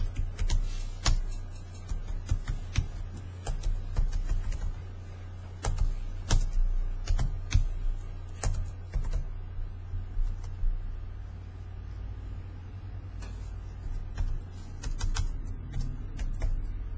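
Typing on a computer keyboard, a run of close, sharp key clicks at an uneven rhythm over a steady low hum, the keystrokes thinning out toward the end.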